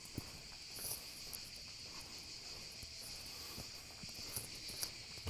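Dense, steady insect chorus of cicadas at dusk in Venice's Castello district, a continuous high buzzing drone with faint footsteps and scattered clicks beneath, no talking.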